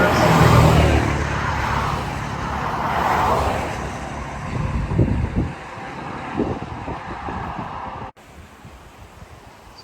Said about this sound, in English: There's a line of cars.